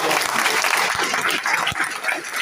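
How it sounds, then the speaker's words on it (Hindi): An audience at a gathering breaks into loud, dense applause, a continuous crackle of many clapping hands sustained throughout, fairly close. "आप सभी लोगों के लिए जोरदार तालियां"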